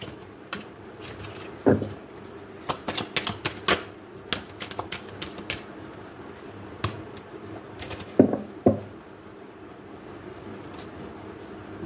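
Tarot cards being shuffled by hand, giving irregular sharp riffling clicks and slaps in clusters with short pauses, close and fairly crisp.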